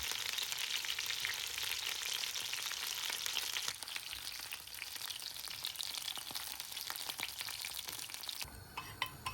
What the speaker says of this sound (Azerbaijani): həmin yağın içində təzədən qızardırıq hər iki tərəfdən